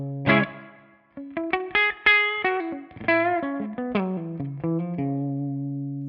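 A Gibson 335 with a figured top plays through the Bad Cat Cub V's 12AX7 tone on the first gain setting, bridge pickup selected: a sequence of clean-to-lightly-driven picked notes and chords, each sustaining and decaying, alone without talk.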